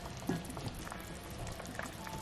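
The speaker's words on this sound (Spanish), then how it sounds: "Pues ya tiene ratito hirviendo nuestra sopa" Vegetable soup boiling in a covered pot, a quiet continuous bubbling with small pops, no talking.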